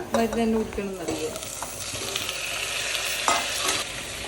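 Three chopped tomatoes sautéing in a pan for a Malabar dish, a close continuous sizzle with a few stirring scrapes at the start.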